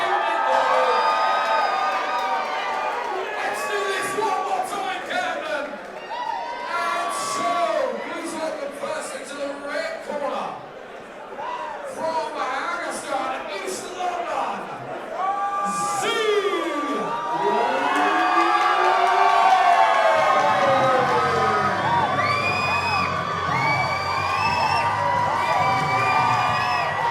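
A crowd at a boxing event cheers, whoops and shouts loudly throughout, with an announcer talking over the noise.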